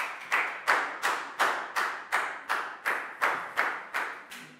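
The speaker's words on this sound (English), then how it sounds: "Big round of applause for Bangpon, please, guys." A Year 4 class claps in a steady run of about a dozen sharp, evenly spaced claps, close and fairly loud, with no voices.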